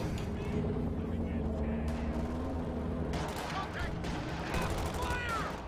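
Company of Heroes 2 battle sounds with rattling MG42 machine gun bursts and scattered gunfire under a steady background of combat noise, with a voice commentating over it.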